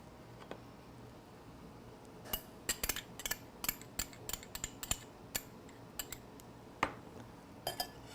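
A spoon stirring hot sauce into a zested lime mixture in a bowl, giving a run of light, quick clinks and taps against the dish, fairly close and quiet, with no talking.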